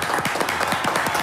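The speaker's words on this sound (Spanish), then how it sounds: "Un aplauso, por favor," An audience at a video game expo claps and applauds steadily for a moment, a dense patter of many hands up close.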